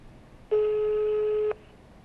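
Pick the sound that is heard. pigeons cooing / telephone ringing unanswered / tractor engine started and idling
telephone ringing unanswered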